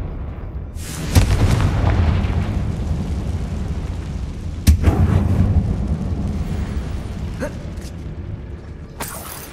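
A Confringo blasting spell erupts inside a closed mine in Hogwarts Legacy, with two loud booming blasts a few seconds apart, each trailing off into rumbling debris and mechanical rattling.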